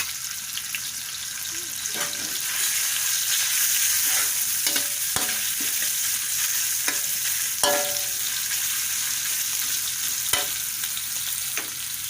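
Pork stir-fries in a pan with fried garlic, a loud steady sizzle broken by scraping stirs and occasional clinks of a utensil against the pan.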